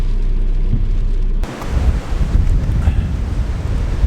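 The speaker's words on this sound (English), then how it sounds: "It's incredibly windy." Strong wind in Scotland blasts against the microphone in a heavy, rumbling roar, growing rougher and gustier partway through, with surf-like noise beneath.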